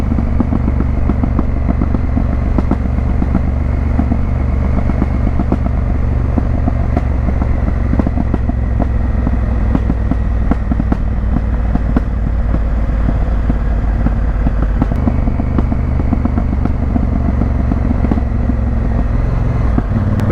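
A Honda Africa Twin motorcycle rides down narrow country lanes, its engine a steady, loud, close drone with wind rumble throughout, slight shifts in pitch and no talking.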